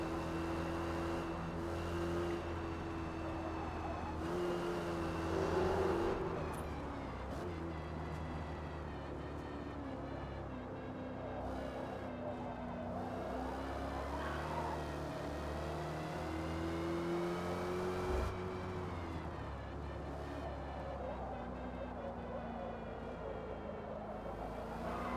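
A muscle car engine in a racing video game, its steady low drone with a slightly eerie, inline-sounding hum that swells briefly around the middle, sustained and loud throughout with no talking.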